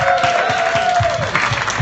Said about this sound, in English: Let this audience clap and let them know on Periscope how good we are